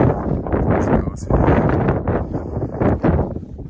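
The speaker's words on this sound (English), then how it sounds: "Bit of wind right now. It's in gusts" Gusty wind on the exposed Franconia Ridge buffets the microphone in loud, rushing bursts that rise and fall across the whole stretch, with no other sound standing out.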